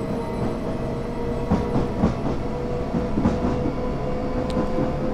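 Train rumbling along in Train Simulator 2014, a steady low mechanical drone with rhythmic wheel clatter over the rails and a brief high squeal near the end, loud and continuous with no talk.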